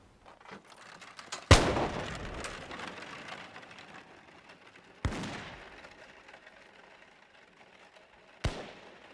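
Musket volleys as armies exchange shots during the Battle of Prestonpans, three sharp cracking reports spaced several seconds apart, each trailing off in a rattling echo over quiet ambience.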